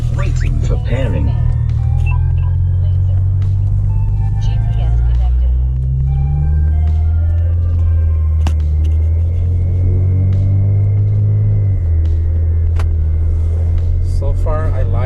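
Infiniti G37 sedan V6 exhaust fitted with an ISR Y-pipe, a steady deep rumble that rises and falls as revs change, loud and close throughout.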